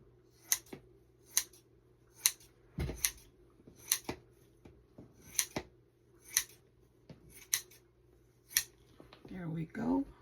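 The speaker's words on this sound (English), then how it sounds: "It's easier to cut it with the scissors." Scissors cutting fabric, a string of sharp snips spaced about a second apart, close and fairly quiet, with faint handling noise between them.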